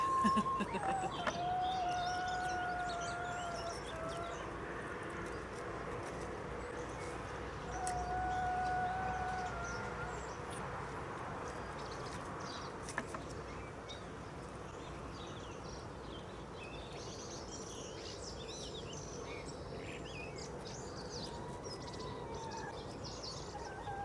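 Birds chirping outdoors at an allotment where hens are kept, a few clear whistled calls near the start and middle over a quiet, steady background hum.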